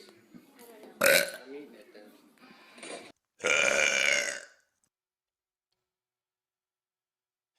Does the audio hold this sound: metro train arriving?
no